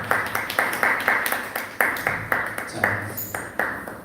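A Korean church congregation claps together in a steady rhythmic beat, roughly two claps per second, close and fairly loud, with a faint ringing tone in the background.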